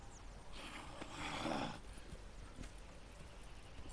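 Horses in the Red Dead Redemption 2 video game snort and whinny at a camp, one whinny swelling then fading, with soft shuffling and faint background ambience.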